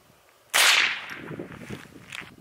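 A single sharp crack of a 22lr Gia 40 grain subsonic round fired into a plywood board, close and loud, followed by a short decaying outdoor echo.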